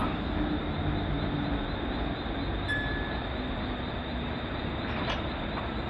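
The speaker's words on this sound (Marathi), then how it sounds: "ही मुंबईहून निघणारी शेवटची लोकल असणार, कर्जतसाठी देखील आणि कल्याणच्या दिशेने जाणारी देखील शेवटची लोकल." A Mumbai suburban local train, the last late-night service from Chhatrapati Shivaji Maharaj Terminus toward Kasara, rolling through at the station with a loud, steady rumble of wheels and carriages, plus a brief squeal midway, no voices.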